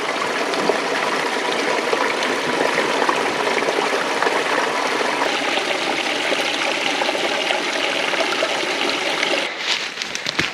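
Clear water streams and trickles steadily at a small oasis on a tough Australian mountain hike, a close, continuous broadband rush that shifts near the end.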